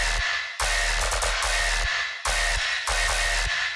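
A gritty tearout dubstep bass sample processed with a slice EQ that trims muddy frequencies repeats in loud, distorted rhythmic stabs, with brief silences separating the chopped hits.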